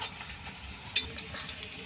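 Onions frying in a pan over a fiercely burning wood fire, a continuous soft sizzle with a single sharp clink of stirring midway.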